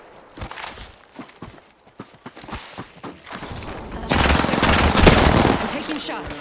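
Gunfire in a first-person shooter video game, scattered single shots giving way to a dense sustained burst of rapid fire, loud and close, with a player talking at times.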